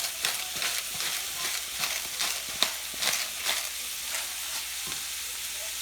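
Sliced onions and peppers sizzle steadily in a hot pan for Philly cheesesteaks, with a close, bright frying hiss broken by repeated scraping stirs at an uneven rhythm.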